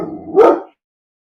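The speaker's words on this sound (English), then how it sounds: "I didn't think you guys wanted to hear Doberman barking." A single deep bark from a Doberman, loud and close, cutting off abruptly into silence.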